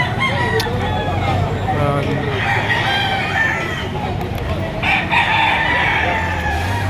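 Chickens cluck and a rooster crows amid a busy, noisy farmyard background of many birds.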